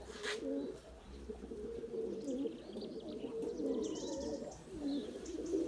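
Pigeons coo softly and repeatedly at a distance, with occasional light chirps over a low, steady background hum.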